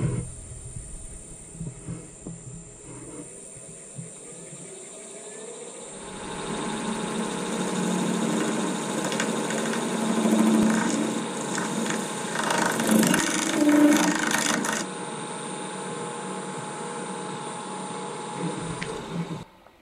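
A lathe turns a steel and resin blank for a bottle opener against a carbide tip, a quiet motor hum that swells into a louder, sustained grinding scrape in the middle before easing off near the end.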